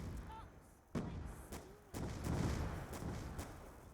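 Python revolver shots in a video game ring out as a few sharp reports, the clearest near one second and two seconds, with rumbling echo and game noise between.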